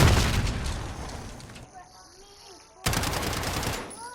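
Loud rapid automatic gunfire in Modern Warfare, a long heavy stretch, a short pause with a brief voice, then another dense burst, all close and punchy.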